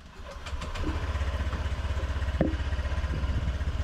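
Motor scooter on a city street in Vietnam: the engine turns over and settles into a steady, pulsing idle, loud and close, with one sharp click partway through.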